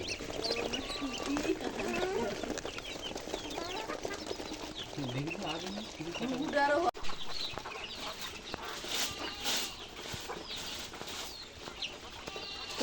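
Several chickens cluck and chatter close by at a farm, with people talking over the flock throughout.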